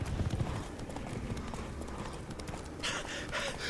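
Hoofbeats of Geralt's horse Roach galloping in The Witcher 3, a steady rapid clip-clop running throughout, fairly close, with a brighter burst of hooves near the end.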